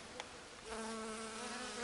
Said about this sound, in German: Okay, die Bienen kenne ich ja.